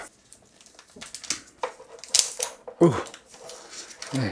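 Plastic film wrap being torn and peeled off a Blackview Active 8 Pro rugged tablet, with short crinkling rips and crackles in irregular bursts, close and fairly loud.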